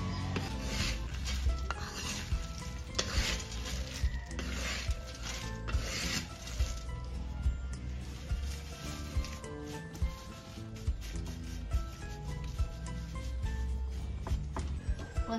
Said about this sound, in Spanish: Estas hay que estarlas moviendo para que queden bien doraditas